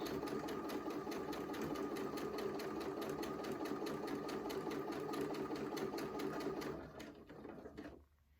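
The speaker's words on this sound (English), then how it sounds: "I'm just going to sew it all the way around" A sewing machine stitches steadily around a square-in-a-square quilt block, a close, continuous rapid needle chatter that runs about seven seconds before stopping and trailing off into quiet.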